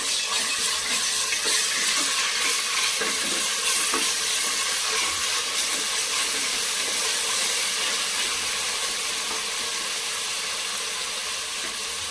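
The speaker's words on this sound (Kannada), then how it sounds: "ಶುಂಠಿ ಬೆಳ್ಳುಳ್ಳಿ ಪೇಸ್ಟ್ ಒಂದು ಎರಡು ನಿಮಿಷ ಫ್ರೈ ಮಾಡ್ಕೋಬೇಕು" Ginger garlic paste frying in a pan for tomato bath gives a steady, close sizzle with a bright hiss and occasional stirring scrapes, heard without talk for about twelve seconds.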